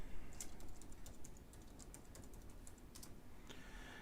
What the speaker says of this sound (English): Let me type his name out for you.